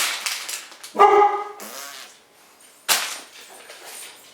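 A dog indoors upstairs barks in a few sharp, loud bursts separated by pauses, close to the listener, with some thumping room noise between barks.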